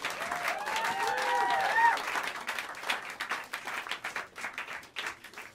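Audience at Smalls Jazz Club in New York City applauds the Mike Moreno Quartet, a small room's warm clapping that swells and then gradually thins out, with a voice speaking over it early on.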